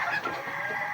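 Chickens clucking and a rooster crowing on a rural farm in northern Cebu, loud and close, a short continuous burst of fowl calls with no talking.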